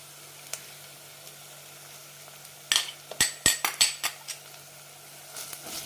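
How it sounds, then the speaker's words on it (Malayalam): Ground chili paste is sautéed with ginger and garlic in oil for Ambur kuska biryani. A low sizzle runs under sharp metal spoon scrapes and clinks against the pan, which come in a quick cluster midway. "നന്നായി വഴറ്റാം"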